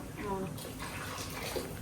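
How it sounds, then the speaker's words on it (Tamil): Water runs from a tap into a vessel in a home kitchen, a soft continuous splashing hiss, faint and close, with a voice speaking briefly over it. "இன்னும் கொஞ்சம் தண்ணி பிடி"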